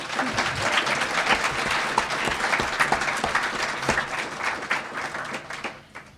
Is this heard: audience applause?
yes